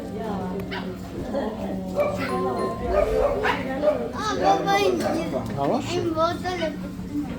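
Several dogs barking and yipping close by in a pet shop in Belgium, overlapping with whimpers, mixed in with people talking over the commotion.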